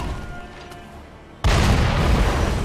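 A sudden loud boom of cannon fire and bomb blasts in the video game Sekiro cuts in after a quieter stretch, then holds as a dense, sustained roar to the end.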